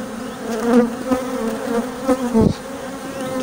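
Honeybees hum steadily around an opened hive after a spring cold spell, a close, continuous buzz with individual bees droning nearer and louder as they fly past.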